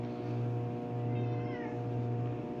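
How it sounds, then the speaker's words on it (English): A pet cat meows several times in a row, close and clear, over a steady low background hum. "She's been a good kitty."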